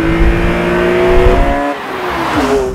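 BMW E46 M3 with the 8,000 rpm, 333 horsepower naturally aspirated S54 inline-six revs hard, a loud steady mechanical howl that drops off briefly partway through before climbing again, heard close with no talk.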